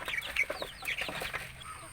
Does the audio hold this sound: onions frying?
no